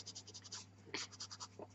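Pastel stick sketching on black velour paper, a soft repeated scratching in quick strokes, faint and close, with a steady low hum underneath and no talk.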